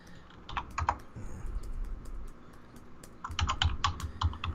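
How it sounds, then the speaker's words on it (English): Someone types on a computer keyboard nearby in two bursts of quick, crisp key clicks separated by a short pause, over faint room hum. "I'm just typing to him now."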